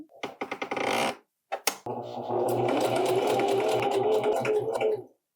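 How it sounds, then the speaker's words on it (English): A sewing machine zigzag-stitches fabric for a pair of pants, running in a short rapid burst, pausing, then whirring steadily and loudly for several seconds before stopping. "I'm gonna zigzag stitch this"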